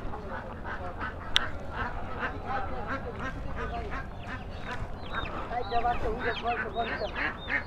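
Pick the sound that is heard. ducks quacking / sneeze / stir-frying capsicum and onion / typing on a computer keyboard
ducks quacking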